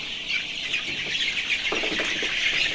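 Sonali chickens in a poultry shed clucking and squawking restlessly, a dense continuous chorus of close calls with a few louder bursts standing out.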